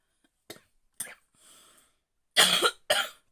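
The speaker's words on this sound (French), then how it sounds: "J'ai des allergies en ce moment. Ça me fait tousser." A woman coughs from allergies: a few short, light coughs and a soft breath, then two louder, harsher coughs close together near the end, in an otherwise quiet room.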